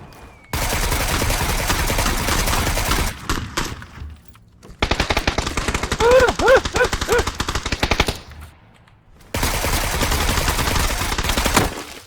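Automatic gunfire in a video game, with rapid loud bursts that stop briefly around the middle and then resume for long sustained stretches of shooting.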